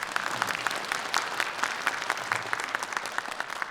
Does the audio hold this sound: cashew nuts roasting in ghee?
no